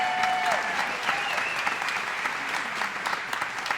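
An audience at a city State of the City address applauds continuously, dense clapping with a faint voice briefly audible underneath at the start.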